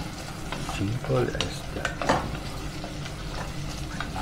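Onion frying in a Salad Master pan while being stirred, a close crackling sizzle with scraping spoon strokes, and a person briefly speaks over it.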